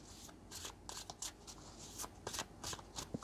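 Tarot cards are shuffled by hand before a cross-shaped reading, a run of close, crisp riffling bursts and soft slides of the deck with no talking.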